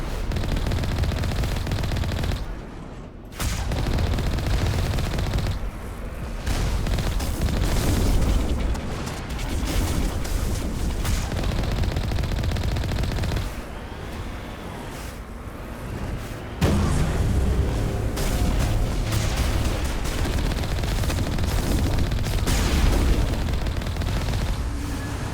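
Sustained gunfire and heavy explosions in the sci-fi shooter game Mass Effect 1 Legendary Edition, dense bursts of automatic fire and booms continuing loudly with only brief lulls.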